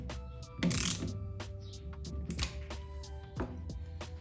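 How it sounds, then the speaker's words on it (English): A wrench tightens a bolt on a Bak tonneau cover fitted to a Jeep pickup, giving a run of quick mechanical clicks and ratcheting taps at close range with no talk. "You take your wrench, and you finish tightening it all the way."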